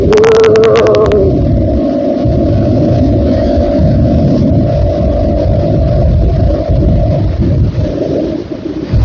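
Yamaha R15 and KTM 250 Duke motorcycle engines roar loud and close in a steady, continuous drone, with a brief burst of higher-pitched revving at the very start.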